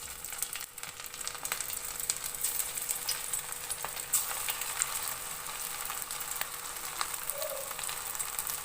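Rice pakoda frying in hot oil over a medium flame, a continuous dense crackling sizzle with scattered sharper pops, close and steady throughout.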